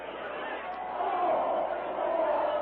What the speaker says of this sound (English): With the crowd fleeing in every direction